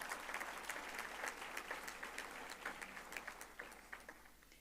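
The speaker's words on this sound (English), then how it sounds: "I think you can applaud them in return for this" A university graduation audience applauds steadily, a dense patter of many hands clapping that gradually thins and fades toward the end.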